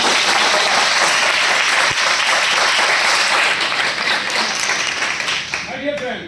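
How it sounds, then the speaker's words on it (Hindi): Loud, dense applause from a seminar audience at a Vestige business presentation, filling the space continuously and tapering slightly near the end. "एक बार जोरदार तालियां।"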